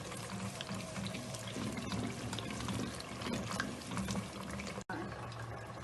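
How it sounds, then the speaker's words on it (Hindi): Beaten yogurt poured into a pan of spices gives a continuous soft, wet pouring sound in a home kitchen, with a brief cut near the end. "ये हमने जो 1 कप दही का था वो भी इसमें ऐड कर दिया।"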